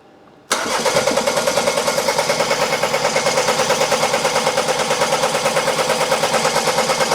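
A Volvo XC90 2.0 diesel bi-turbo engine with 200,000 km, a cracked piston and damaged turbo, cranks on the starter with a fast, steady rhythmic chugging, loud and close, starting abruptly after a brief quiet moment and continuing without catching.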